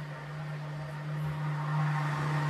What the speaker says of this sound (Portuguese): Tá zoando um negócio ali no liquidificador